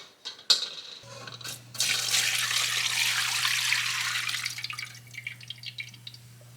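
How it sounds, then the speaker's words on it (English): Hot frying oil pours through a metal strainer, starting with a few drips and clinks, then a steady liquid trickle and spatter that fades into scattered drips, accompanied by a low constant hum. "I'm going to use a strainer to strain the oil."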